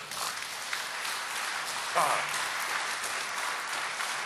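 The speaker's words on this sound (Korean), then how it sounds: "하나님께 영광의 박수를." Congregation applause at an early-morning church revival service fills the room, a steady wash of many hands clapping throughout, with a brief louder swell in the middle.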